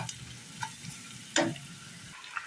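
Noodles with cumin powder and vegetables fry quietly in a pan, with a low steady sizzle broken by a few light taps and one sharp scrape of stirring midway.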